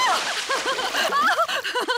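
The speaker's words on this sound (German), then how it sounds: "Ich glaube, wir haben genug gespritzt." Water splashing in a cartoon pool as pigs play, with quick repeated splashes and sloshes while high, animated character voices talk and exclaim over them.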